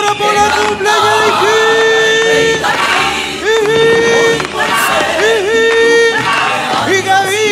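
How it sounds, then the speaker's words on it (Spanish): A crowd at an in-person birthday serenade for Carmen cheers and shouts loudly over live music and a sustained singing or calling voice. The din rises and falls in waves throughout. "¡Mándale los aplausos para Carmencita, señores!"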